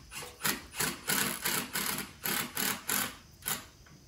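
Screws are driven into deck boards of sawmill lumber milled on a Woodland Mills HM130Max, with about ten close, rhythmic whirring bursts from the driver and no talk.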